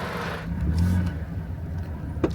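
A car engine pulls away on a quiet, little-traveled rural road in Wisconsin, a steady mid-level rumble with a brief rise near the start, alone without talk.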